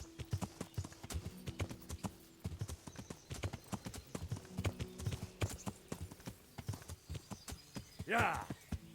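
Rhythmic clip-clop of horse hooves trotting steadily in Kingdom Come: Deliverance, with a brief whinny near the end and a low droning background.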